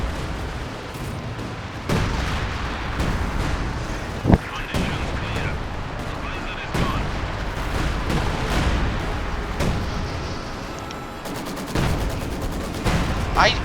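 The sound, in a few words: artillery explosions in video game Company of Heroes 2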